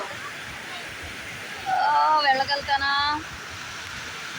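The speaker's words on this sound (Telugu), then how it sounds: "చిన్న వాటర్ ఫాల్" Steady rushing water from a small waterfall in a river park in Austin fills the background, with a voice speaking briefly over it in the middle.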